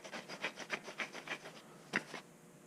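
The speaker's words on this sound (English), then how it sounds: "Working pipe wrench out of something that was seized up from a mill fire" An old Ridgid pipe wrench, seized up after a mill fire, is worked back and forth, giving a steady run of about eight rhythmic rasping scrapes, then a pause and one louder grinding stroke, close and fairly quiet.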